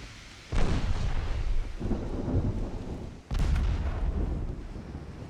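Warship guns fire in Ultimate Admiral Dreadnoughts during stormy weather at sea. Two deep, rolling booms sound over a steady background of rain and wind, the second louder, and there is no talk.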